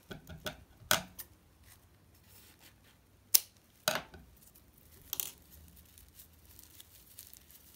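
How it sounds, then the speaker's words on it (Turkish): Scissors snip through the ends of paper cord while a bag is being made, giving several sharp, separate cuts spaced a second or two apart, close and clear against a quiet background. "Uçlarını kesiyorum."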